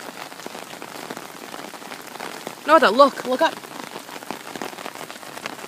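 Rain patters steadily on an umbrella in a continuous hiss of drops, while a brief spoken phrase rises up near the middle.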